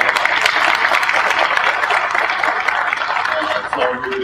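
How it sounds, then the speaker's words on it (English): An audience claps steadily in dense, sustained applause, loud and close, tapering slightly near the end with a voice briefly emerging. "Let's give him a round of applause."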